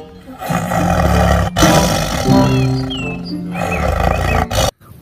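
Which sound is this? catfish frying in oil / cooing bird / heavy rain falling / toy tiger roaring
toy tiger roaring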